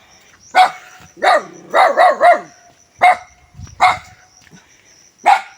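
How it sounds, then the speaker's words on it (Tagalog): A dog barks repeatedly nearby, sharp loud woofs in an irregular series, some in quick pairs, with short quiet gaps between. "May bantay pong aso."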